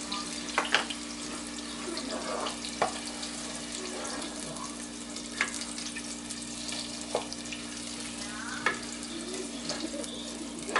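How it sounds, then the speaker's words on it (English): Tomato paste fries gently on low heat for Nigerian jollof rice, giving a steady soft sizzle with scattered small pops and crackles over a faint low hum; no one speaks. "We are going to fry this in a low heat."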